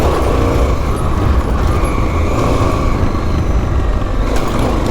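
A 1984 Honda XL600R dual-sport dirt bike engine runs loud and steady while being ridden, a continuous rumbling drone with heavy wind buffeting and no break in the sound.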